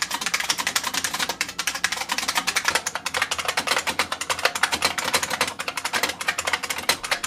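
Rapid, loud clacking of an IBM Model F mechanical keyboard being typed on, each keystroke a crisp, high-pitched pinging click in a fast, uneven rhythm.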